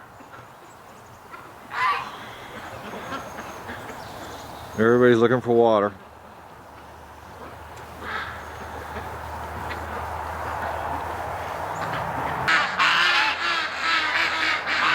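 Muscovy ducks on a frozen pond in winter, searching the ice for water; a single loud, harsh call burst stands out, with fainter calls scattered around, while someone talks.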